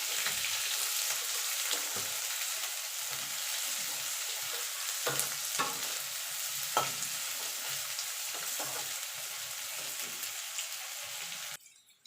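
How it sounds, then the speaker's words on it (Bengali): Chopped onion and garlic fry in a pan until golden for a cauliflower bhorta, giving a steady close sizzle throughout with occasional sharp stirring scrapes, before the sound cuts off abruptly near the end. "পেঁয়াজটাও গোল্ডেন কালার করে ভেজে নেব।"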